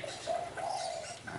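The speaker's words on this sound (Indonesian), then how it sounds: "Kali ini saya pasang ring di kaki burung parakit Australia Taupa." Australian parakeet (budgerigar) calling while a ring is fitted to its leg, short warbling chirps and trills close by and fairly faint, no talking.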